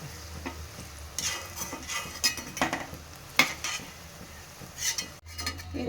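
Okra bajji fritters fry in hot oil with a low sizzle. Stirring clicks, scrapes and utensil taps on the pan punctuate the frying throughout.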